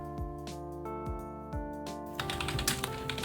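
Computer keyboard being typed on, a few separate key presses landing in a steady rhythm before a quick burst of rapid clattering strokes, close and fairly quiet.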